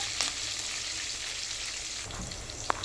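Ingredients roasting in oil give off a soft, steady sizzle at moderate distance, with a faint scrape near the start and a single brief clink near the end, no speech.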